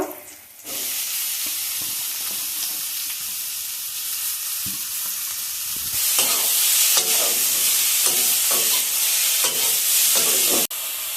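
A red spinach pitha filling sizzles and hisses as it cooks in a pan, with occasional spoon stirs. The sizzle grows louder and brighter halfway through, then cuts off abruptly near the end, with no talking.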